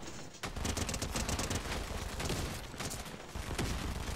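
A video game firefight in which dense, loud bursts of automatic gunfire rattle almost without a break, near and punchy, in rapid overlapping volleys with no talk.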